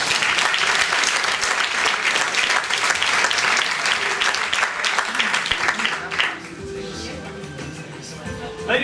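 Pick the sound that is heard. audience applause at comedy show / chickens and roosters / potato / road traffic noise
audience applause at comedy show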